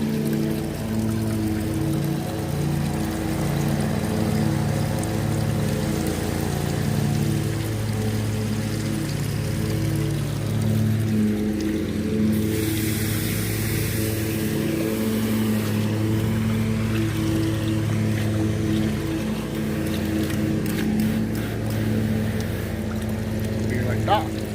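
Water spills over the edge of a storage-bin mini pond, making a steady continuous trickling wash that lasts throughout, with a faint background hiss.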